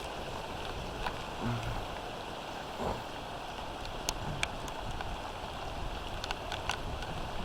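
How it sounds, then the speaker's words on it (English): Heavy tropical storm rain from Ophelia pours steadily as a broad, constant wash of hiss, with faint gusts and a few small knocks and drips scattered throughout. "I mean, that rain is really coming down."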